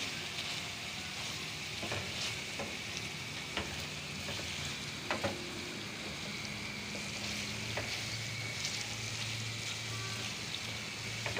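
Mutton liver (kaleji) fries in a pan with salt added at the end, giving a continuous close sizzle with occasional stirring clicks and scrapes throughout.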